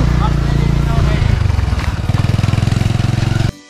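Motorcycles pass close by on a rural road to a cave, a loud engine roar that gives way to a rapid pulsing idle-like throb before cutting off abruptly.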